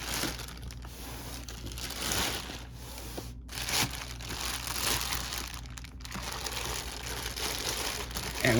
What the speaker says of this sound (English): All right, we got the plastic off.